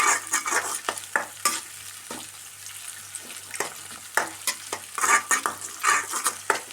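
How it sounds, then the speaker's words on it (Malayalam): Tapioca and egg curry stir-fried in a pan, with sharp, repeated scraping stirs over a steady sizzle, loud and close, coming in uneven bursts with no talking. "നന്നായിട്ട് ചിക്കിയെടുക്കാം"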